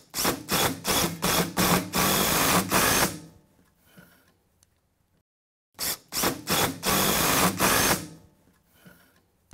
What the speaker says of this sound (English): go ahead and screw them together firmly with some good old-fashioned deck screws